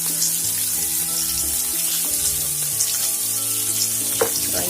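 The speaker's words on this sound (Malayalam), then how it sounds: "അപ്പൊ ഏകദേശം നന്നായിട്ട് 2 ഭാഗവും ഒന്ന് ഫ്രൈ ആയിട്ട് നമുക്ക് എടുക്കാം." Thick-fleshed fish pieces shallow-fry in a pan for fish molee, with a continuous close hissing sizzle, scattered small crackles and one sharper pop near the end.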